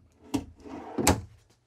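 Two drawers in a bank of six in a 2021 Bounder 33C motorhome's interior thud shut, one after another, a short, close, solid knock with brief rumbling between.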